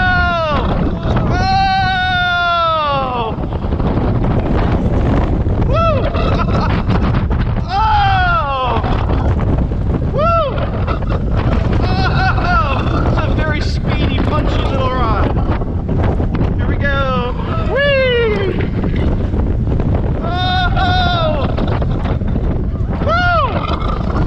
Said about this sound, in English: now backseat ride on the Formula roller coaster